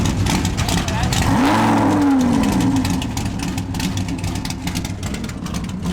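A blue twin-turbo Lamborghini Huracan starts up outdoors, its engine rising in a loud swelling rev, then settling into a steady rumbling idle amid background noise.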